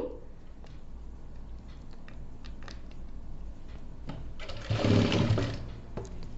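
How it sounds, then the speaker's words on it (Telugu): Sewing machine stitching piping onto a blouse made from a straight strip of saree fabric, a soft mechanical whir with light ticks that swells into a louder, faster burst of stitching near the end. "మనం మిషన్ పాదం కింద పెట్టేసి కుట్టడం స్టార్ట్ చేసుకోవాలి"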